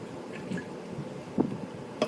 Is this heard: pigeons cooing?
no